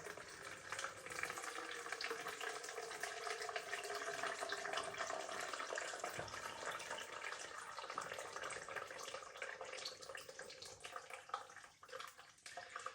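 Hot water from cooked instant Korean barbecue flavour noodles pours out of the pot into a sink in a continuous hissing, splashing stream, steady and close, easing toward the end.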